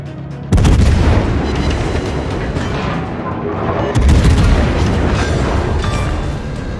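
Cruiser Des Moines in a naval video game unleashes heavy gunfire, with loud booming salvos and rapid rumbling blasts piling into a continuous barrage and a second heavy volley partway through.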